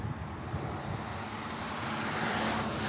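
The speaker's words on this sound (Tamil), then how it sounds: "அகெயின் இன்னொரு ஹெலிகாப்டர் வருது பார்த்தீங்களா?" A steady engine drone from a helicopter hums overhead at a distance near Kargil, a broad continuous roar that holds even throughout, with no talking.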